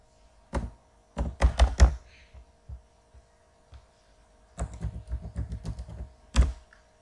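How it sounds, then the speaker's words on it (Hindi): Bursts of keystrokes on a computer keyboard, close and fairly quiet, coming in short clusters with pauses between, with a faint steady hum underneath. "लॉगिन करने के लिए आप जस्ट टाइप करें अपना वेबसाइट नेम, उसके बाद wp-admin।"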